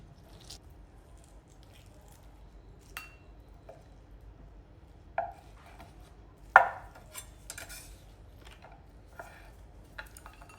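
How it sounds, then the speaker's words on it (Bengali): A knife cuts through soft dates on a board, making sparse, quiet, sticky taps and squishy slices at irregular intervals, with a couple of sharper knocks, close up in an otherwise quiet kitchen. "এভাবে আমি সবগুলো খেজুর কেটে নিচ্ছি"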